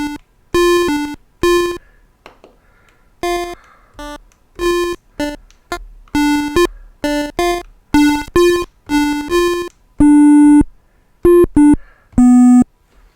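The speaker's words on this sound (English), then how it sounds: "So basically an emulation of Nintendo chip synth sound." Buzzy square-wave chip synth notes emulating a Nintendo sound, in short, choppy bursts and held tones, like a retro video game, loud and dry.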